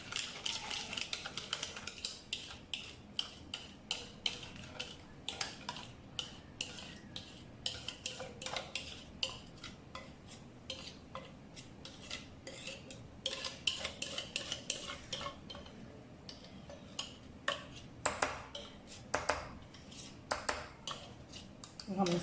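Chocolate cake batter is worked into a paper-lined cake mold with a utensil, producing faint, irregular scraping and light clinks against the mold. The sounds repeat over about twenty seconds, with brief pauses between strokes.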